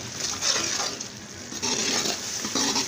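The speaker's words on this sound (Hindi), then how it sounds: "पहले चिबड़ों को अच्छी तरह भूनेंगे और उसके बाद दाल शामिल करेंगे" Chhibad, a wild cucumber, frying in spiced masala in a pan, a steady close sizzle with stirring scrapes and clinks of the utensil against the pan.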